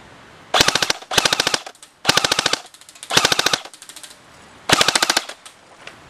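An ICS MX5 Pro airsoft gun fires five rapid full-auto bursts, each a tight string of sharp mechanical cracks, loud and close, separated by brief pauses.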